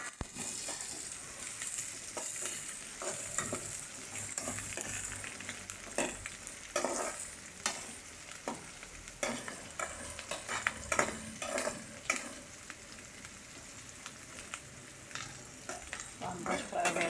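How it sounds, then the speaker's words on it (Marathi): Onion fries in oil with curry leaves for poha, a quiet, steady sizzle with scattered pops and scraping stirs against the pan. "असा कांदा तेलामध्ये भाजून घेऊ."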